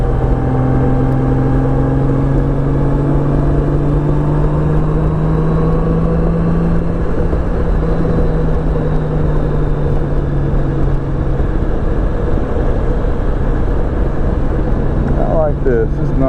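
A Honda F6B motorcycle climbs a hill under steady throttle, its engine a continuous low drone with a slowly shifting pitch beneath constant wind roar, a rider talking over it at points.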